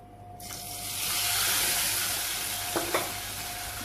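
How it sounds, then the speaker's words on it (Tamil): Hot oil poured into a pot of ven pongal, bursting into a loud hissing sizzle that swells and then slowly fades, with a couple of brief clinks from a utensil near the end. "இப்போ நல்லா காஞ்சிச்சு அந்த எண்ணெய், அதை இதில் ஊற்றணும்."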